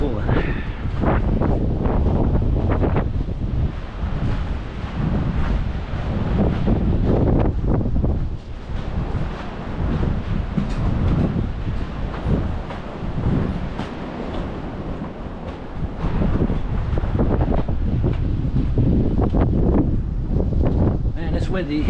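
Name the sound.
wind noise on the microphone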